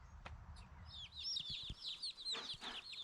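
Pasture-raised chickens clucking and squawking together in a repeated, bright, fairly close chorus over low background rumble and a few thumps.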